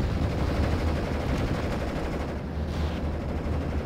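Battle sounds in the video game Steel Division: Normandy 44, with mortar fire from an IG-18 gun and suppressing gunfire. A continuous, rumbling wash of distant firing and blasts holds steady throughout, with no voices over it.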